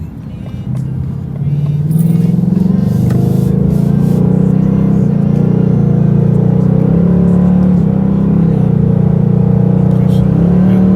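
A 2019 Ford Mustang GT Premium with a 10-speed automatic makes a loud, sustained engine drone from inside the car as it downshifts aggressively, the revs rising and then holding steady.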